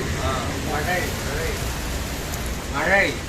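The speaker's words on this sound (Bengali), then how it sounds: "এই যে বারিশ চলে এসছে আমরা কি বলি বৃষ্টি চলে এসছে" Steady rain falls outdoors as a broad, even hiss, with voices talking over it on and off.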